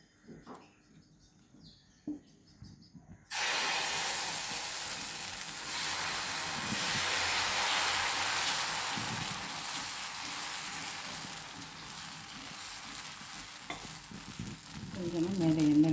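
Mudakkathan keerai dosa batter poured onto a hot griddle, a sudden loud hissing sizzle that starts after a few quiet seconds of faint clatter and continues steadily, close by.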